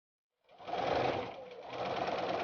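A sewing machine stitches one straight edge of a quilt block. After a short silence its close, steady buzzing whir starts abruptly and runs on, dipping slightly midway.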